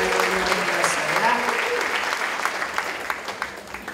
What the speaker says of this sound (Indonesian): Tepuk tangan untuk para pelayan-pelayan kita yang luar biasa ya